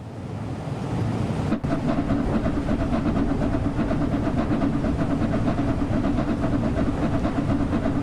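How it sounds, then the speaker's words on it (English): Flying Scotsman express steam locomotive slowly accelerating with a heavy train on a main line, giving a loud, continuous rumble with a rapid, even rhythmic beat that holds steady throughout. "Express steam engines are designed for speed, not power, so they have to work their way up to that speed"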